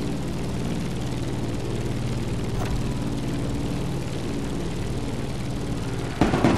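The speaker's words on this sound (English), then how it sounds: "Let's start our descent and get ready for the landing." A propeller airplane drones steadily on its descent toward Honolulu in the driving game The Crew Motorfest, a constant low engine hum that shifts into a rougher, louder rumble near the end.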